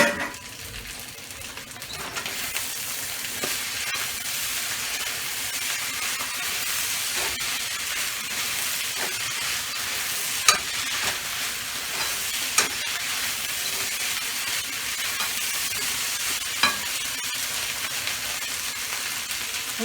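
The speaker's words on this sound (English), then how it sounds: "Let it fry down a little bit, and we in there." Fried rice sizzling in a hot pan, a steady loud hiss of frying with occasional scraping clicks from stirring, continuous for the whole stretch with no talk.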